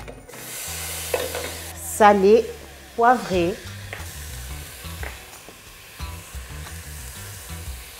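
Meat sizzling and frying in a saucepan while being stirred, with scraping strokes and a steady hiss, as a person talks briefly over it.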